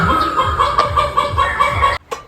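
Sweater gamefowl rooster and chickens on a farm, steady close clucking and throaty calls in a quick rhythm, loud, ending in a short clipped break with no speech.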